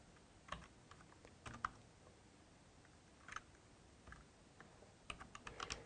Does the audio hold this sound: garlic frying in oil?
no